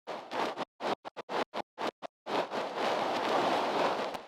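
Noise layer on a loop: a quick series of short, choppy bursts whose tails stretch longer with extended release, then settling into a sustained, washy hiss at moderate level, with no voice present.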